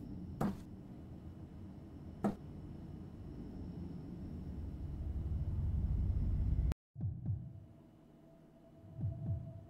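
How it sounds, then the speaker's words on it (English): A low, throbbing heartbeat sound effect pulses steadily in the horror video game Fears to Fathom, layered over a dull hum, with a couple of sharp clicks and a sudden cut to near silence partway through. "Ooh, heartbeats."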